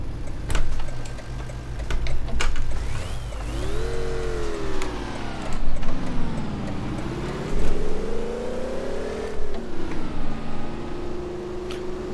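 A GMC Vandura G-1500 van engine in the driving game City Car Driving revs up hard, its drone climbing and dropping again in several repeated surges like gear changes, loud and close with no voices over it.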